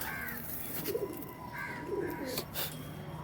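Domestic pigeons, full-tailed fancy birds, coo in a few soft, low rolling phrases close by, repeating at intervals over a steady background hum.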